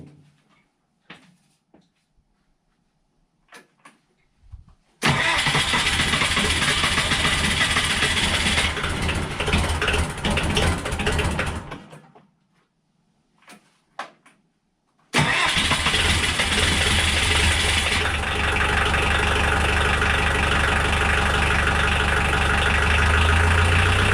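A Bobcat 743 skid steer loader with a newly replaced muffler and flex pipe cranks and fires up, runs loud and steady for several seconds, cuts off, then restarts and settles into a close, continuous idle.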